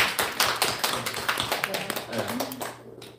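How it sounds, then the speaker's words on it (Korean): Church congregation claps together after a call to applaud, a run of quick sharp claps under a speaking voice, fairly quiet and close. "우리 박수 한번 해주세요"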